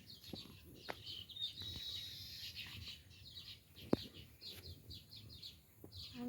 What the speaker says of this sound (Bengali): পাখির একটু বেশি কিচিমিচি শোনা যাচ্ছে